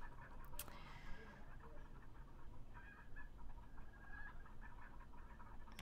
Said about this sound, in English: I will just listen to my chickens and wait.